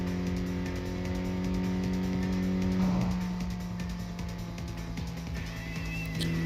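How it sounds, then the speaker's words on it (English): Steady engine drone of a Toyota Trueno cruising in the PS5 racing game Tokyo Xtreme Racer, a continuous mid-level hum with a brief swell near the middle and no talk over it. "Let's keep the car cruising to get the water temp down."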